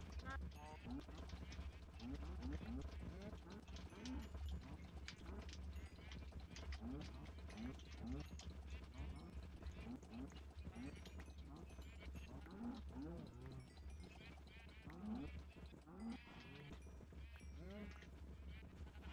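A herd of cows, around seventeen, moos over and over in a video game cow slaughter, overlapping calls rising and falling above a constant loud game background.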